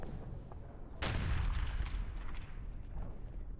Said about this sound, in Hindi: हमास के ठिकानों पर चुन चुन कर धमाके